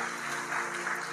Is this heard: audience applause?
yes